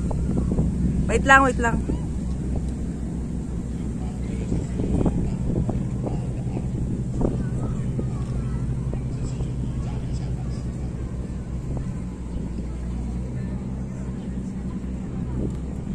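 Strong, steady wind roars and buffets the microphone on a boat in Hong Kong, a constant low rumble under a brief spoken voice near the start.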